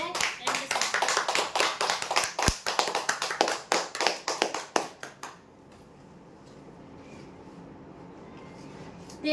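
A live prize-draw audience in Maharashtra bursts into dense hand-clapping, loud and close for about five seconds before stopping abruptly, leaving a low room murmur.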